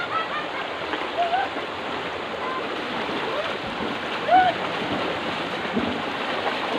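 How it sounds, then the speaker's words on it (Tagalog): Strong river current at a swimming spot in Pangasinan, a steady, loud rush of flowing water filling the whole clip, with faint voices barely audible underneath. "sa sobrang lakas ng current ng tubig"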